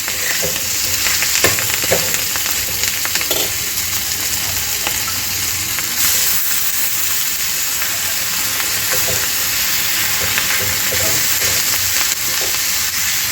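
Wild leafy greens sauté in a pan over a high gas flame, giving a steady, close sizzle and hiss with scattered crackles and occasional stirring scrapes throughout.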